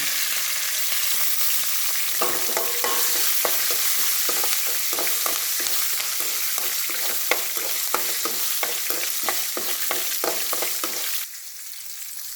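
Curry leaves, green chili and ginger frying in hot oil for coconut rice, a continuous close sizzle broken by the repeated scrape and clack of a spoon stirring in the pan.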